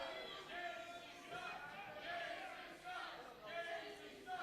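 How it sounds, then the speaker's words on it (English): A wrestling crowd chants insults at Sean Casey during a PowerBomb Wrestling event, a rhythmic, swelling group chant that carries faintly from a distance. "They're chanting Casey sucks."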